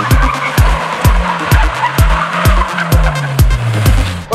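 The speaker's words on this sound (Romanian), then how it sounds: "Acum haideți să vedem cum de fapt merge mașina asta și o să începem cu măsurarea accelerației." Mazda 6 MPS launching hard during an acceleration test, loud engine revving through rapid repeated rises and drops with tires squealing, close and intense with no talking.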